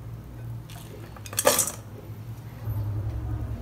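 Whole dried cloves dropped into a metal cooking pot, one quick bright rattling clink in the middle of quiet kitchen hum, close and short.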